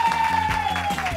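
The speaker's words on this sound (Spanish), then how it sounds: "aquí te aplaudimos tu vuelta" A brief burst of studio audience applause on the Spanish talk show El Grupo, a steady wash of clapping heard up close without a break.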